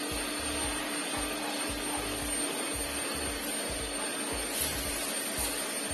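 A Xiaomi Jimmy H8 cordless vacuum cleaner runs in eco mode with a steady, close whirring hum and a faint high whine, plus soft rhythmic low thumps as it moves across the floor.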